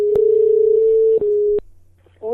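A steady telephone ringback tone plays loudly and continuously, broken by a few clicks, then cuts off into a quiet line before a voice begins to answer.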